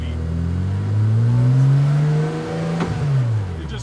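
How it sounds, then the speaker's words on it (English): A car with a newly upgraded drivetrain powers around a turn, its engine note climbing in pitch, holding, then easing off, loud and close with no talking. "That was just a little bit of power coming around a turn"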